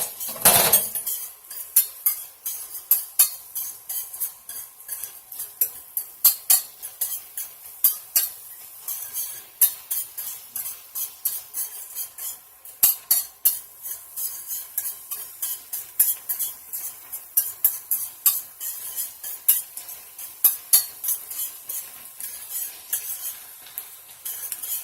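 Chopped onions sauté in melted butter in a pan, heard as a faint sizzle under constant sharp clinks and scrapes of a utensil stirring against the pan.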